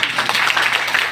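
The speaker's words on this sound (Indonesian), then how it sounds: "Tepuk tangan buat Didrik." Applause from an audience at a village finance governance event in Penajam Paser Utara, a dense, steady patter of many hands clapping at once for just over a second, with no voices over it.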